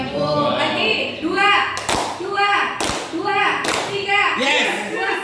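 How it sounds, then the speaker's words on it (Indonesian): An audience of teachers at a school workshop claps together in loud, synchronized bursts, with a few sharp unison claps standing out over the ongoing chatter and voices. "Tepuk tangan untuk semuanya."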